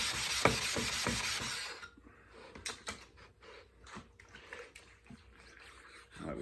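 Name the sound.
sharpening a chisel on a sharpening stone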